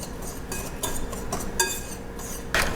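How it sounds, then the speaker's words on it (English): Brown and white granulated sugar being whisked in a bowl, with light scraping and clinking of the whisk against the bowl in an uneven rhythm, close and fairly quiet. "I'm going to whisk this all together."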